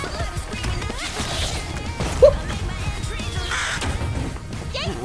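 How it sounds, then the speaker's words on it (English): Crows caw amid a busy animated fight scene between Harley Quinn and Jinx, the calls mixed into dense effects with a sharp crack near the middle and no talk. "What is Jinx's deal with the crows?"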